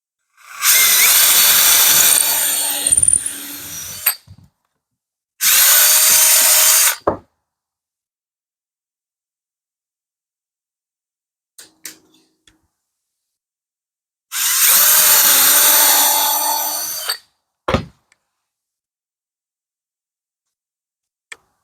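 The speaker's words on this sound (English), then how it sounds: "I'm going to drill the holes for the screws" A power drill whines loudly through reclaimed pallet wood in three separate bursts, drilling screw holes, with silent pauses between them and a few light clicks and knocks.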